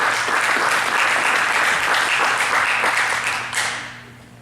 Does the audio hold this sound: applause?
yes